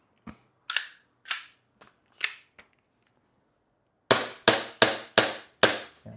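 An airsoft gas blowback pistol fires, first a few scattered single shots, then a rapid full-auto burst of five or six loud, sharp cracks in close succession, near and clear.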